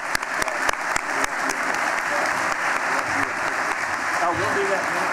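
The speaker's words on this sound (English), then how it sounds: "Let's give Dan a round of applause." An audience at an annual statewide economic council meeting applauds steadily and loudly, a dense continuous clapping, with a brief spoken phrase near the start.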